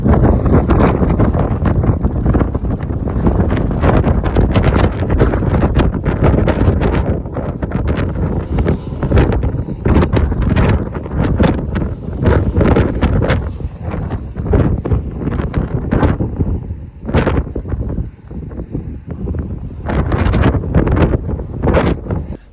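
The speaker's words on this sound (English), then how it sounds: "It is very windy outside" Strong wind buffets the microphone outdoors in Roswell, New Mexico, loud continuous roaring gusts with rustling bursts that dip and surge for over twenty seconds, no speech.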